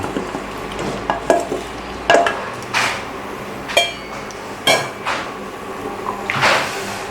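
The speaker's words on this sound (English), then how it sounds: "Give it another stir to incorporate everything" A spoon stirs curry in a cooking pot, making a series of scraping, knocking strokes at an irregular pace over a soft simmering hiss.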